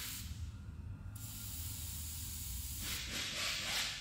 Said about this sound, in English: spray a bunch of it and let it flow inside